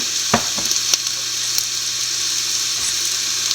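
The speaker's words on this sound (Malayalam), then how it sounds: "ഗരം മസാല പെരിഞ്ചീരകം പൊടി നല്ലപോലെ കൂട്ടി യോജിപ്പിക്കുക" Beef fries in a pan with garam masala and fennel powder being stirred in, giving a loud, steady sizzle broken by a few sharp scrapes and clinks of the spoon early on.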